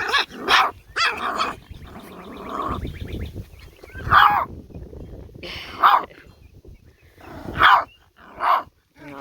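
Puppies playing together, yapping and barking in short sharp bursts with growls and scuffling between them, loud and close, with pauses between the outbursts.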